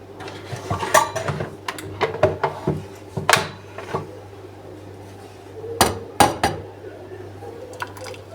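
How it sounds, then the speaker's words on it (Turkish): Dishes being unloaded from a dishwasher in a home kitchen: a run of clattering knocks and clinks of plates, pots and cutlery, close and fairly loud, in irregular bursts with brief pauses between. "Şimdi geldim mutfağa şöyle bulaşık de boşalttım."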